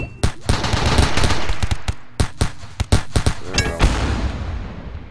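Loud, dense video game gunfire in RimWorld, rapid bursts and single shots cracking over a continuous roar of battle noise, close and intense throughout.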